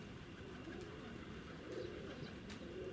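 Pigeons coo softly at a pigeon loft in the morning, faint and somewhat distant, with a low continuous rumble like passing rail traffic and a few brief chirps in the background.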